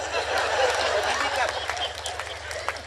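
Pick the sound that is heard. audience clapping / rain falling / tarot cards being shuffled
audience clapping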